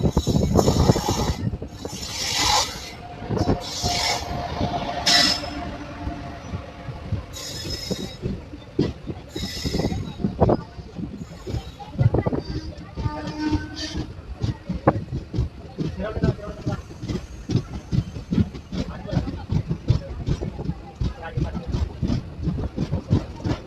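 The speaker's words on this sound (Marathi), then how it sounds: "कोयना एक्सप्रेस डिपार्चर करत आहे तर महाराष्ट्र एक्सप्रेस मसूर रेल्वे स्टेशनवरती अरायवल करते" The Koyna Express pulls away from Masur railway station with a steady rolling clatter of wheels over rail joints and a squeal from the wheels. Someone talks close by over the noise.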